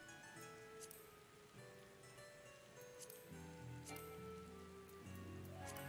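Steady rain falls in Final Fantasy XIV Endwalker, a soft continuous patter heard faintly beneath a gentle game music melody.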